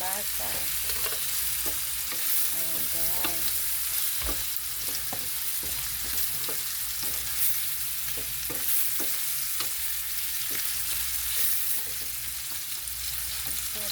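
Vegetables sautéed with onion, garlic and tomato are stirred in a hot pan, with a steady loud sizzle and repeated scraping strokes of the spoon keeping an even rhythm.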